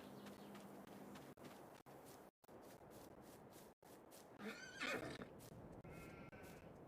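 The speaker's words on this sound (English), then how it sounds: "we got our sheep and our horses over here that probably need to be fed" A horse whinnies loudly midway through, a shrill rising-and-falling neigh, amid soft hoof clip-clops and quiet ambient game-like background.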